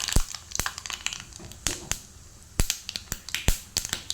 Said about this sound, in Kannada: ಇನ್ನು ಸಾಸಿವೆ ಹಾಕ್ತೇನೆ